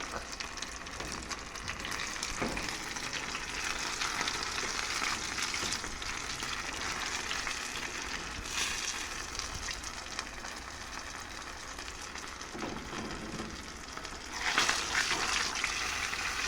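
Fish deep-frying in oil in a pot makes a continuous dense sizzle and crackle, steady and close, and it briefly gets louder near the end with no speech.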